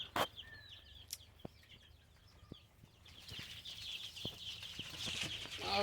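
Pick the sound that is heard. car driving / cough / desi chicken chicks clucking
desi chicken chicks clucking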